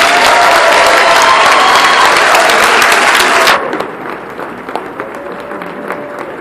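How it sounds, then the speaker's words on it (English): A ceremony audience gives loud, close applause, a thick roar of clapping hands that holds steady for a few seconds and then thins to scattered claps and murmuring. "Give them all a round of applause."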